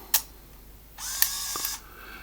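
Kodak Snapic A1 film camera being wound on: a quiet click, a short pause, then a soft mechanical whirring wind with a couple of faint ticks, close and isolated.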